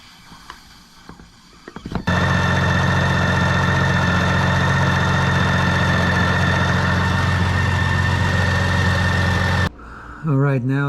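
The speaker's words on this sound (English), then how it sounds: "you're going to run the engine idle for 5 to 10 minutes, maybe longer." A BMW K1600 GT motorcycle engine starts and settles into a steady, loud idle with a low, even hum, heard close up after a coolant flush and refill, then cuts off near the end.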